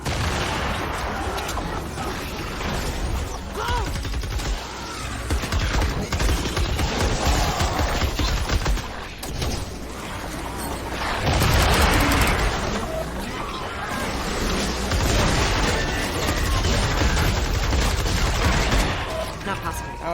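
Dense automatic gunfire rattles throughout a Fortnite Save the World battle, and a heavier burst swells midway as a thrown grenade explodes, with some voice chatter mixed in.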